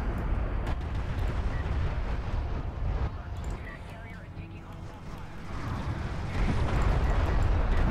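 Artillery barrage in a strategy game: continuous, dense rumbling explosions and crackling impacts rolling together, with a caster talking over the steady bombardment.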